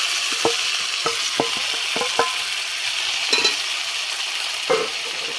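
Greens tossed into reddish-fried onions sizzle in a pan under a steady hiss, broken by repeated light clicks and scrapes of a spatula stirring, close by with no speech.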